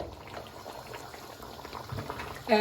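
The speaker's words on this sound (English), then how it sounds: "So I'm going to put the lid back on and let it cook for 15 minutes now" Boneless Peshawari chicken karahi simmers in water under a lid over a flame, a soft, continuous bubbling close by, with a brief louder clink near the end.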